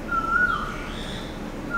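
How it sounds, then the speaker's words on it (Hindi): An Asian koel calls with a clear rising whistled note in a hot, humid Mumbai morning, heard once, moderately near, over steady household background noise. "कोयल आवाज दे रहा है, सुनाई दे"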